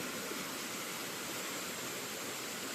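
Water of a mountain stream in the hills between Darjeeling and Pelling rushing downhill, a steady dense broadband roar heard close and without pause, with no voices.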